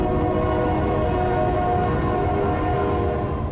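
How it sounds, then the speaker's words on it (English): A loud train rumbles past close by, a heavy continuous roar with a sustained horn-like tone layered over it. "That's a train."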